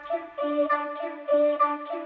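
A chopped vocal sample run through the Murda Melodies multi-effect plugin for an Afrobeats track in Studio One 6, a repeating stepped melodic pattern of short sung notes with a bright, processed tone, alone.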